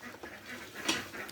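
Farm ducks quack close by in a short burst of a few nasal calls, one louder quack near the end, over faint background noise.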